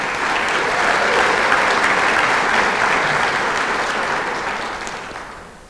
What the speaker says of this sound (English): if I could ask for a round of applause for them